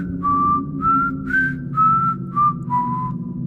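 Six sustained, wavering whistled notes follow one another at an even pace, eerie and clear against a low hum in a forest at night, each note sliding slightly in pitch.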